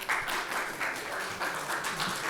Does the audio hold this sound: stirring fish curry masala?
no